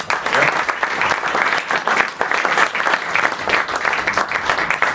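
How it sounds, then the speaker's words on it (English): A crowd applauds a panel with loud, sustained clapping, many hands in a dense, even roar lasting throughout, close and with no voices heard over it. "I think we should give them a good round of applause."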